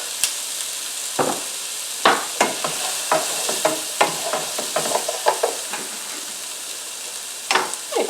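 Diced onion and green bell pepper fry in a skillet with butter and oil, giving a continuous close sizzle punctuated by repeated sharp pops and stirring scrapes.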